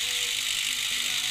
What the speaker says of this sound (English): And then you go ahead and release the actual spring compressor itself.